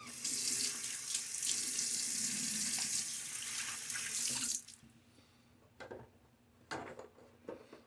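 A tap runs steadily for about four and a half seconds to wet a shaving brush, then shuts off, leaving a few faint clicks and small handling sounds close by.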